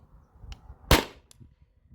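A CO2 gun on a 20 oz tank fires a 9.88 gram PVC-coated steel ball, one sharp loud crack standing alone, with faint clicks before and after.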